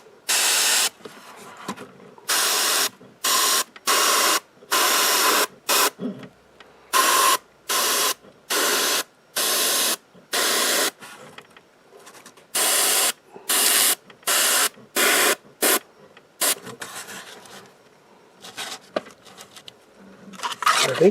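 An airbrush with a 0.2 needle setup sprays paint onto a Dropzone Commander miniature in short repeated hissing bursts of about a second each, separated by brief pauses, close and fairly loud.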